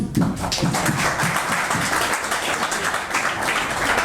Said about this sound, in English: I just want you to give them a round of applause